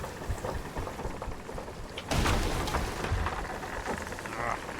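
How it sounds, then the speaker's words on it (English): Storm wind and heavy rain in the pirate game Sea of Thieves roar steadily, with a louder gusting surge about halfway through that keeps up to the end. "The storm is doing some damage there as well."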